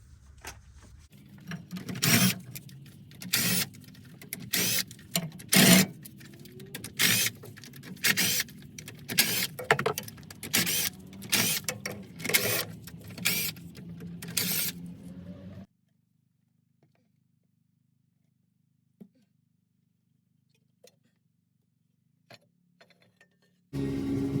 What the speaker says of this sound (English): I'm going to take all these 13 millimeter bolts off the back differential cover now.